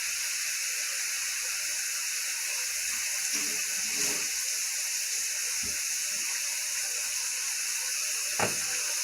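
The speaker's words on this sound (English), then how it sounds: "As you can see, I'm adding the bacon to the wok." Bacon fries in a wok with a steady, loud sizzling hiss throughout, broken only by a few faint knocks and a sharper clink near the end.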